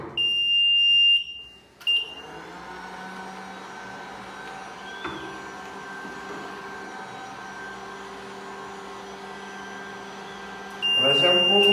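A sandal stamping machine gives off a steady high-pitched electronic beep at the start and again at the end, with a continuous machine hum running between the alerts.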